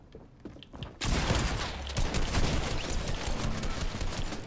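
Shotgun fire in a video game starts after a second of quiet and becomes a dense, loud volley of blasts. The heavy gunfire continues without a break, and nobody talks over it.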